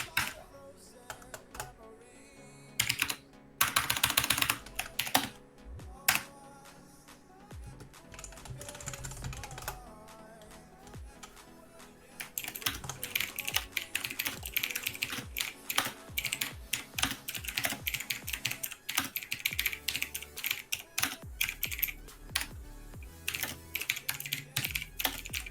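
Someone types on a computer keyboard nearby, with scattered keystrokes and pauses at first, then a fast, dense stretch of clacking that goes on for the rest of the clip.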